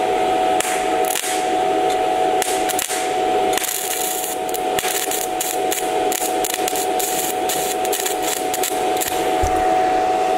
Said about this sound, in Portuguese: Viram que ela nem abre o arco direito? Por que que ela está grudando e não está indo? Porque a amperagem está muito baixa.